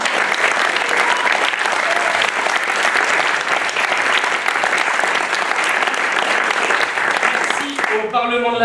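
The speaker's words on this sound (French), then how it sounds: "On peut les applaudir." An audience applauds after a theatre show, producing dense, steady, loud clapping that carries on throughout and ends abruptly with a few notes of music.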